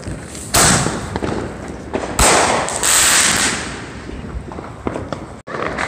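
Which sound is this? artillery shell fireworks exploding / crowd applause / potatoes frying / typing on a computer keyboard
artillery shell fireworks exploding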